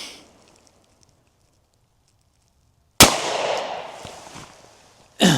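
Two sharp, loud 9mm pistol shots from an HK CC9 firing Federal HST 124 grain +P ammunition, fired outdoors. The first report rings out and decays over about two seconds, and a second shot follows near the end.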